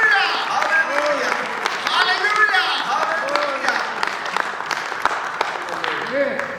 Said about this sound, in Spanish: shout, clap hands, do whatever you want if you believe this.